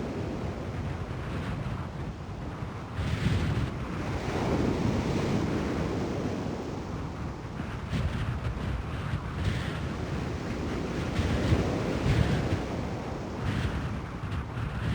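Ocean surf and wind at Cape Reinga, New Zealand, where the Tasman Sea and Pacific Ocean meet: a steady, loud roar of breaking waves with gusting wind buffeting the microphone throughout, swelling in broad surges.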